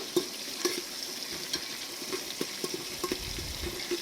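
Chopped ginger and green chillies stir-fried in a hot pan, a constant close sizzle broken by regular scraping clicks of a spatula stirring every half second or so.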